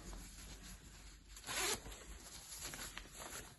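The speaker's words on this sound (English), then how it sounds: "zips on the ankles on both sides, just zips open like that" The ankle zip on a DAM CamoVision thermal waterproof fishing suit is pulled open in one quick, close rasp against a quiet background.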